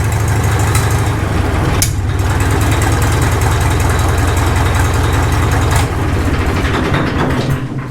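Caterpillar D2 crawler tractor engine running steadily at close range, a loud continuous idle with a sharp intermittent pop breaking through about twice, with no talking over it.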